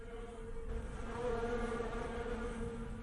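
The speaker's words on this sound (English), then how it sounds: "The buzzing is getting louder and louder." Insects buzz steadily inside an abandoned mansion, a sustained droning hum with faint wingbeat tones that swells slightly louder partway through, fairly close and with no talk over it.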